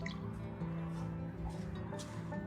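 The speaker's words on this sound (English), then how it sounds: "I'm going to add just a little bit more water and pour it through here just to give them a little final rinse" Water poured through a strainer to rinse saved seeds, a steady soft trickle and dripping at close range, running continuously without talk.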